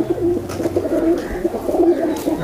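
Pigeons, low-flying kabootar, coo in soft repeated rolling calls close by, a few overlapping phrases over brief quiet background.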